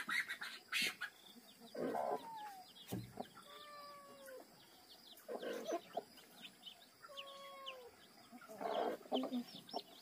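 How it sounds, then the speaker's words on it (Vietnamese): Chickens cluck and call in short bursts with pauses between, fairly faint and at a middle distance in a rural outdoor setting, with no talk. "gà nhỡ"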